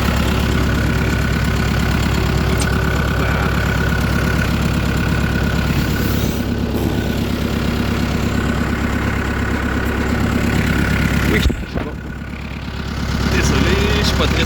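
A tractor engine idles loudly and steadily nearby with a low rumbling chug, briefly dipping near the end before resuming.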